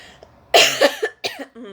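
A few sharp coughs close up, a burst of two or three harsh hacks followed by a shorter one, with a brief breathy sound at the end.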